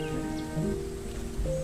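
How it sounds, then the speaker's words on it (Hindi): Heavy rain pours down during a flood as water fills a house, a soft dense patter that runs evenly throughout beneath sustained tonal music. "बारिश बंद होने के बजाय और तेज हो गई"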